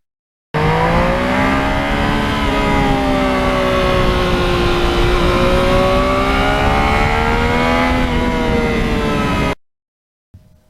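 2020 Yamaha MT-09 motorcycle engine while riding, a loud sustained drone whose pitch rises and falls with the throttle for about nine seconds before cutting off.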